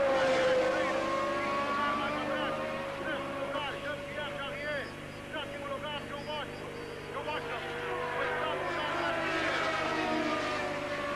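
Formula 1 race cars with side skirts roar around the Brands Hatch circuit, a steady engine whine that rises and falls as cars pass, heard under continuous commentary.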